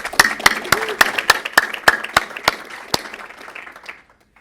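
A scattering of individual claps, sparse and uneven, tapering off into silence after about four seconds.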